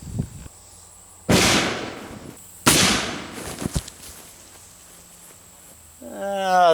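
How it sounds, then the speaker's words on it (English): An airbag detonated by touching a wire to a battery, launching a bowling ball: two sharp, loud blasts about a second apart with a brief rattle after the second, then quiet before a voice starts. "We're gonna touch the wire to this battery, and then hopefully it will detonate the airbag and launch our bowling ball."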